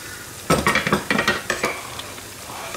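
Dal being stirred in a cooking pot, with a series of soft scraping and clinking strokes of a spoon against the metal, close and moderately loud, followed by a quieter stretch.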